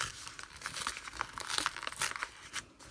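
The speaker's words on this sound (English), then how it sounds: "I do want to open this carefully so I can keep the envelope as part of my treasures" A paper envelope is torn open carefully by hand, close crinkling and short tearing rips in an uneven rhythm, no talk.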